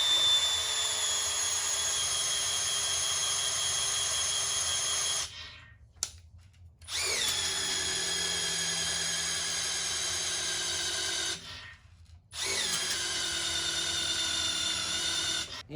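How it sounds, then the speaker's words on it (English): An electric drill spins steadily as it primes the oil system of a Cummins 6.7L diesel engine, a loud high whine that cuts out twice briefly and resumes, with no talk over it. "you guys heard the drill change. The oil system is now starting to prime"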